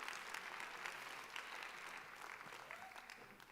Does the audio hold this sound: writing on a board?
no